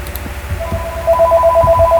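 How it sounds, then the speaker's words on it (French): A telephone rings with a repeating electronic tone, loud and close, over a low rumbling background. "Un autre téléphone."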